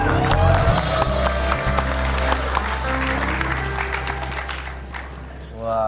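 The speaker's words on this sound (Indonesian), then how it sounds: "Tepuk tangan dong buat Ogi." A studio audience at a television talk show's birthday special applauds loudly, a thick roar of clapping and some cheering layered over low music, with voices talking across it.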